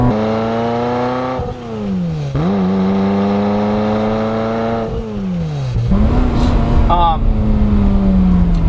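A 1996 Ferrari F355 Spider's engine revs up and drops back several times in a row, its sharp, harmonically rich wail rising and falling loudly at close range, with no talking over it.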